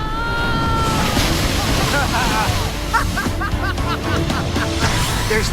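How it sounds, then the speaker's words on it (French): Large ocean waves crash and roar continuously around a small boat made of duct tape out at sea, with heavy wind buffeting the microphone. Shouting voices break through the surf noise. "Il n'y a pas à dire, ces vagues étaient immenses."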